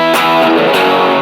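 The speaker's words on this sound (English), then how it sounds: "Let's see if we can push back the distortion a little bit." Distorted electric guitar through a tiny Lekato Pogolab mini amp, a loud, buzzy sustained chord with a rich harmonic tone and a quick re-strike, then an abrupt cutoff.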